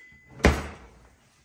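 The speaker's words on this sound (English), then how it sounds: "Let's get a little spatula out of this drawer right here." A kitchen drawer is shut with a single sharp, fairly close thunk, and a brief rattle fades away behind it.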